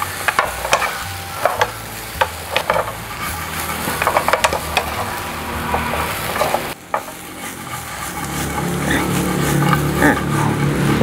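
Deep-fried calamari stir-fried in a wok with garlic, salt and sugar, heard as steady scraping stirring strokes over a close, loud sizzle that swells into a denser frying hiss toward the end.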